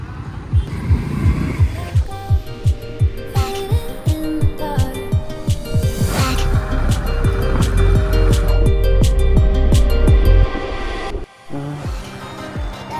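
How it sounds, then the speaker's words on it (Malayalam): A freshly rebuilt Hero Splendor motorcycle engine runs close by: a loud, rhythmic thumping idle that quickens into a steady, continuous drone before cutting off abruptly near the end. "വണ്ടി സൗണ്ട് കേട്ടോ"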